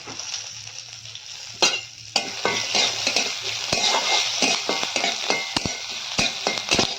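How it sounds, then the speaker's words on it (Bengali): Chana dal, green chillies and curry leaves frying in a wok, a bright continuous sizzle broken by repeated sharp scrapes and clinks of a spatula stirring against the metal. "একটা চাটনি বানাবো, তাই কিছুটা ছোলার ডাল দিয়ে দিলাম ভাজার জন্যে।"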